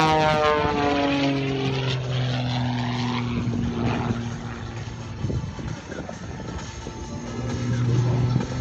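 A propeller plane's engine drones loudly and steadily during an aerobatic snap roll after pushing over the top with negative G's, its pitch sweeping up and down, with a faint voice now and then.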